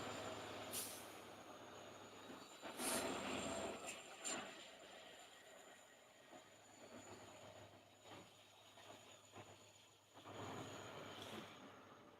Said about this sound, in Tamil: இந்த பக்கம் தான் ஒரு ரயில் வருது பாருங்க